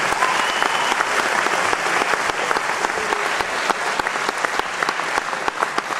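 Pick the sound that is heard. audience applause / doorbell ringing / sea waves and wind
audience applause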